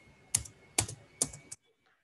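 Typing on a computer keyboard while entering text in GeoGebra software: four quick, distinct keystroke clusters spaced about half a second apart, close and clear, then silence.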